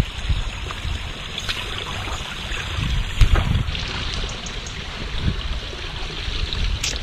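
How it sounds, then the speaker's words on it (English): Water runs steadily through a newly built garden stream beside a pond, a continuous close trickle and rush with no voices. "So here's the finished stream,"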